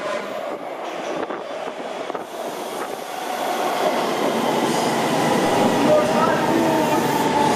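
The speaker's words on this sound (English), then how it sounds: "This is our train." An LA Metro train pulls into the station, its rumble swelling louder and steadier with faint wheel squeals, while people nearby talk over it.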